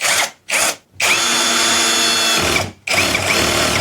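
A GoYwato 21V cordless drill runs on a low torque setting, giving two short whirring bursts and then a longer steady spin with a brief break before it starts again. The motor sounds close and loud, and there is no talking.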